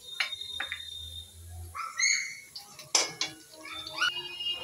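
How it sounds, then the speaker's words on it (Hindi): Potatoes dropping into a hot cooking pot where cumin was just added, a few scattered clinks and clatters of metal and food landing, close by with no talk. "दोस्तों सारे आलू मैंने इसमें डाल दिए हैं"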